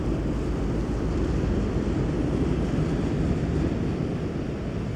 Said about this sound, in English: Nice bow thrusters, just blowing out a lot of water there.